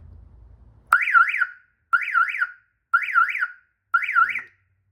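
An aftermarket car alarm, triggered when a door is opened, blares four loud, close chirping siren bursts about one second apart, each a rapid warbling rise and fall, with short silences between them.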